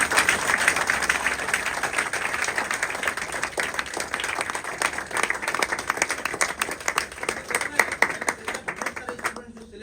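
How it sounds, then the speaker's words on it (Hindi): Audience applause for parents at a school or coaching-institute gathering, a dense crowd clapping steadily and loudly for nearly ten seconds before tapering off at the end, with occasional voices mixed in. "पेरेंट्स के लिए और उनकी दीदी के लिए पहले ताली बजाइए"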